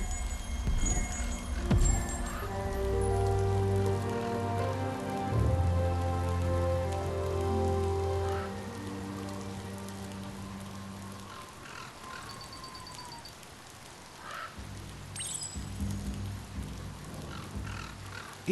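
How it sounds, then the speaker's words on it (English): Rain falling in the video game Biomutant, a steady wash of drops pattering on surfaces throughout, with crow-like caws and low tonal game sounds underneath; no one speaks. "It's starting to rain."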